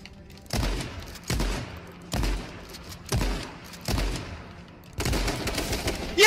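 Shotgun blasts in a competitive video game boom out one at a time in a steady rhythm, about six loud shots roughly a second apart, with a faint voice barely present.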